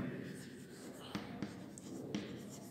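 Hand writing on paper during a maths lesson: faint scratching strokes with a few sharp taps, heard quietly under a speaking voice.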